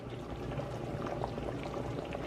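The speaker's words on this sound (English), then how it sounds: "Let me pour some of this in here and just drink it." Creamy potato soup being poured into a container, a steady thick gurgling and bubbling pour that runs close and continuous from start to finish.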